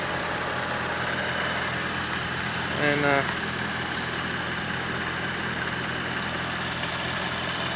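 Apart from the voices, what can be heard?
BMW 535i turbo engine idling under open hood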